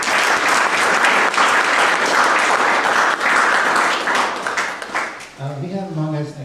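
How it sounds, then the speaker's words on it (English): An audience at a cloud computing session breaks into sustained, loud applause, dense clapping that lasts several seconds before thinning out as a voice begins talking at the end. "I think it's appropriate to say a rather big round of applause for him."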